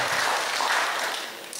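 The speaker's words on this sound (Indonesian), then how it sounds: "berikan tepuk tangannya" Audience applause at a district theatre festival in Bantul as a festival jury member is introduced, a continuous broad wash of clapping from many hands that fades slightly toward the end.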